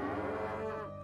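A cow moos once in the Nancy Drew: The Captive Curse video game, a single low, drawn-out lowing call that sounds close and clear, with no talk over it.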